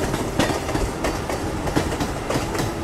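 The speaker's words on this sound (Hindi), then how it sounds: "मुंबई की लोकल" A Mumbai local train passes at Vasai Road railway station during the evening rush, with loud rumbling and rhythmic clickety-clack of wheels over rail joints, close and continuous.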